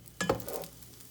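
Sooji cheela fries in a pan as it is turned: a brief scraping clatter of the spatula, then a soft, quiet sizzle that fades out.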